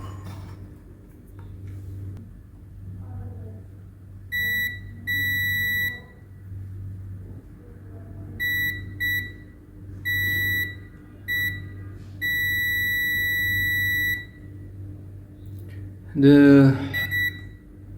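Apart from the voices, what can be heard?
multimeter continuity test beeping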